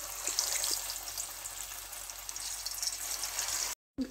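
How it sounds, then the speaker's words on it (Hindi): Marinated chicken deep frying in hot oil, a continuous dense sizzle and crackle that cuts off briefly near the end. "अब हम इन्हें डीप फ्राई करेंगे"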